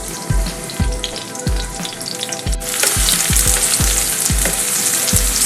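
Mushroom pieces frying in hot oil for a crispy chilli mushroom dish, a loud, continuous sizzle and crackle close up, with repeated low thuds of stirring and a sudden rise in the hiss partway through.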